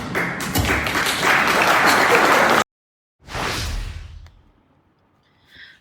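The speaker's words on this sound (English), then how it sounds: "So it was nice to get a small round of applause there" A burst of clapping applause fills the first few seconds and cuts off abruptly, followed by a shorter round that quickly fades.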